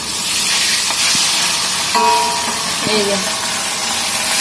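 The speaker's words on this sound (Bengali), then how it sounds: "এখন মাছগুলো দিয়ে দিলাম। এই যে এখন রান্নার আগে ভাজতে হবে মাছ।" Rohu fish pieces fry in hot oil with a loud, constant hiss and sizzle close by, a few faint clinks, and a voice speaking briefly over it.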